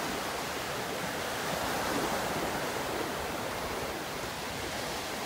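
Ocean surf washing steadily onto a beach in North Naples, Florida, a continuous broadband roar of breaking waves with no voices.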